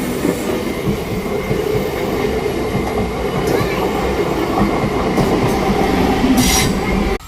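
A Renigunta–Gudur express train rumbles past close by during railway track work, a loud, steady roar of rolling wheels and rattling cars with a few brief metallic squeals.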